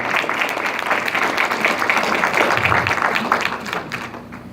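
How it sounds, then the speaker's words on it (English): Audience applause at a police academy event honoring the police commissioners, a dense, steady clapping that fills the room and gradually thins and fades toward the end. "a round of applause for our commissioners"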